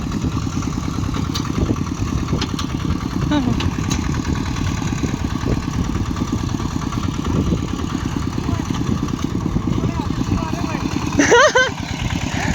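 A heavy tractor engine runs steadily at close range, a low, continuous rumble with a brief louder rise near the end.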